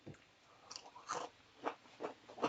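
Someone bites and chews a homemade fake-crab Mirelurk cake with a crunchy crust, giving faint, close crunches in an uneven rhythm of about five soft bites, with no talking.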